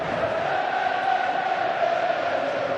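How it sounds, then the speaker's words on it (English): Away rugby league supporters of St Helens cheer and chant behind the posts at a Good Friday match against Wigan Warriors, a steady, sustained crowd roar heard from a distance with no clear peaks. "Listen to that away crowd following behind the sticks, getting right behind the St Helens side now."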